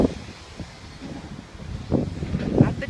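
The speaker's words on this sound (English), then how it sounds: "It's blustery." Blustery outdoor wind outside a church on a warm morning, a steady low rumble of gusts buffeting the microphone that swells louder toward the end.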